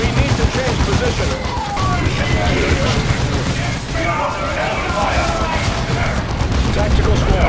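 Battle gunfire and explosions in Dawn of War 2, with Space Marine squads fighting Eldar. Continuous dense volleys of shots and booms stay loud throughout, with voices speaking over the combat.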